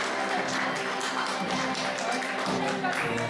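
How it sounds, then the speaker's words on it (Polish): A gala audience applauds a family and loved ones, with dense, steady clapping that fills the whole stretch at an even level without pause. "Olbrzymie brawa dla rodziny oraz osób bliskich Oliwii."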